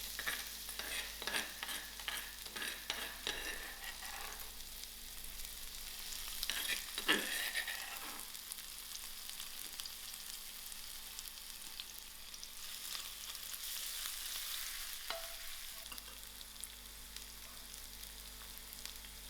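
Crushed chilies and garlic frying in hot oil for vada pav, a loud sizzle with crackling bursts and stirring scrapes, swelling sharply partway through and then settling into a steady hiss.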